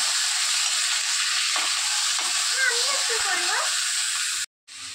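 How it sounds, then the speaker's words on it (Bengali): Mango pieces fry in a pan as they are stirred, a steady close hiss of sizzling oil running throughout with occasional scraping, cutting out briefly near the end. "এভাবে কিছুক্ষণ আমটাকে একটু ভেজে দিই।"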